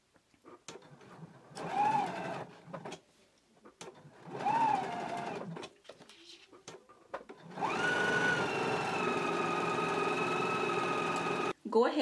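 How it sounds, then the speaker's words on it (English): A sewing machine stitches a 3/8-inch seam allowance around a fabric tab, running in short bursts with talk between them, then a longer steady stretch of close, continuous whirring. "We're gonna go ahead and stitch in a 3/8 of an inch seam allowance all the way around the tab"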